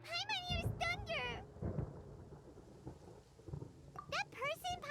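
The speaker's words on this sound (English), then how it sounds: "Paimon hears thunder!" Thunder rolls in the Genshin Impact Sumeru Archon Quest as a low, drawn-out rumble beneath stormy ambience, with character voices speaking before and after it.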